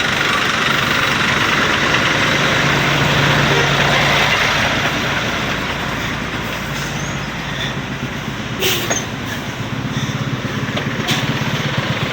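Large vehicles idle in a highway traffic jam on Andaya Highway in Lupi, Camarines Sur, a steady low engine rumble with broad road noise and occasional faint clanks, no talk.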